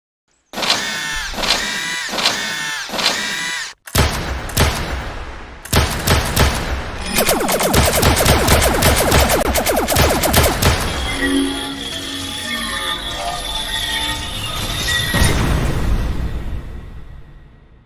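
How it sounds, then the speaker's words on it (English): Gunfire sound effects designed for a film clip's sound design: bursts of rapid shots, impacts and whooshing layers rolling loud and dense through the scene, with no talking. "The gunshots were great."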